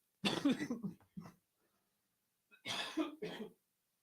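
Two bursts of harsh coughing, a few rapid coughs each, separated by a short silence; close and fairly loud.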